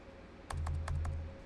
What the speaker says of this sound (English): We've got about 5 or 6 more lines to type in, and we're done.